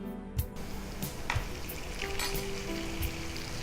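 Onion, carrot, capsicum and tomato sauté in a hot pan, a steady close sizzle and crackle broken by a few stirring clacks of a utensil, with no voices.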